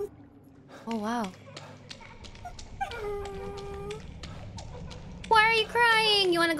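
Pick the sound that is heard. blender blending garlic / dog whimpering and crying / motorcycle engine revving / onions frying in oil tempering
dog whimpering and crying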